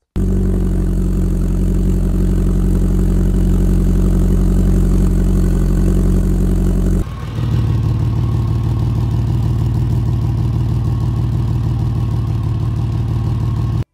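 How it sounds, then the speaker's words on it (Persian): A car engine idles loudly and steadily with an exhaust manifold air leak. Its rumbling, pulsing tone shifts abruptly halfway through to a different, slightly higher-pitched running note that carries on with no voices. "ششمین صدای غیر معمول صدای نسبتاً بلند همراه با یه صدای اضافی نشت هواست"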